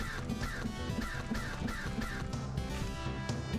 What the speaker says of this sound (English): Just a hail of birds.